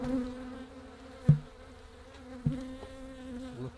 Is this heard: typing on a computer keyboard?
no